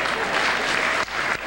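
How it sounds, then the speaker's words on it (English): An audience at an alumni tribute gathering breaks into a brief, loud burst of clapping that fills the room, with a short dip near the end as the applause tapers. "Applause, applause."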